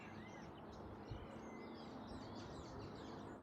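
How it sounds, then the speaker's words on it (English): Birds chirp and sing continuously in trees by a lake in Mexico, a faint, steady chorus of small calls with no talking. "I got trees all around me, with birds everywhere."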